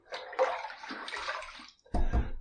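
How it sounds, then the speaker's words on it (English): Water splashing and running from a tap as a man wets his face before shaving, a continuous splashy stream followed by a fuller, closer splash near the end, no talking. "Let me throw a little more water up there."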